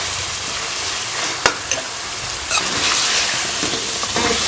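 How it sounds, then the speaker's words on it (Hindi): Fried potatoes stirred and sautéed with masala in a karahi, a steady close sizzle broken by a few sharp scraping clicks of the spoon against the pan, no voices. "ये फ्राई किए हुए आलू जो है वो मैं इसमें शामिल कर लूँगी। इसको भी मसाले के साथ भून लेंगे।"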